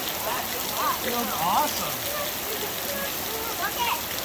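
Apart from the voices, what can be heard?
large raindrops falling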